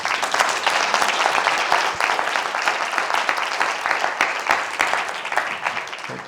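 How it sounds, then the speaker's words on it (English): A conference audience claps for the speakers after an AI and digitization panel discussion in Luxembourg: dense, continuous applause with crisp individual claps, fairly close and steady throughout. "let's have a round of applause for our panelists."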